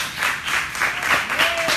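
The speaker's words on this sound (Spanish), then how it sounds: "Denle un aplauso al Señor." A church congregation applauds after a baptism announcement, a steady, fairly loud wash of clapping that swells and dips in waves for under two seconds, with no talk over it.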